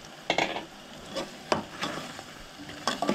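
A spoon stirs chilli powder into a Goan mixed fish curry in a pan. A few scraping knocks come at irregular intervals over a soft sizzle.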